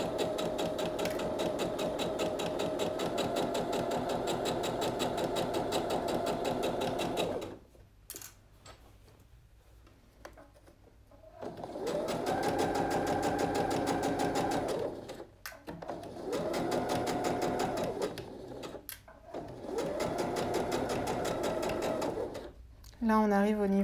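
A sewing machine runs a seam 1 cm from the edge of blouse fabric, a long steady whirring stretch followed by a pause and several shorter bursts, with someone speaking over parts of it.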